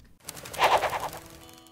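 Rapid bursts of gunfire from a Western-themed PC video game crackle over about half a second, loud and close, then fade into a lingering echoing tail.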